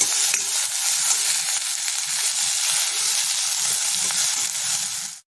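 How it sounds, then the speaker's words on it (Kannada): Tomatoes with salt sizzle loudly and continuously as they sauté in a hot pan, with faint stirring scrapes underneath before the sound cuts off abruptly. "ಇದನ್ನು ಹಾಗೆ ಸ್ವಲ್ಪ ಹುರ್ಕೊಳ್ಳೋಣ ಸ್ವಲ್ಪ ಟೊಮೆಟೊ ಮೆತ್ತಗಾಗಲಿ ಅಲ್ಲಿವರೆಗೂ ಹುರ್ಕೊಳ್ಳೋಣ"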